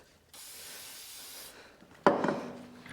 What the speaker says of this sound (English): WD-40 is a good kind of cleaner, because we're also lubricating a little extra at the same time.